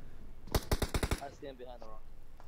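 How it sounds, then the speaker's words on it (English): Gunfire in the mobile game PUBG Mobile during a playoff match: a quick burst of about six loud, sharp shots, followed by a commentator's voice. "Gonzo getting some good shots on Seagut"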